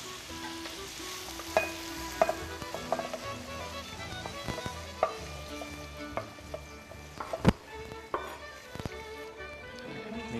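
Meat fries in oil in a pot with a steady close sizzle, punctuated by sharp metallic taps and scrapes of a spoon stirring against the pot.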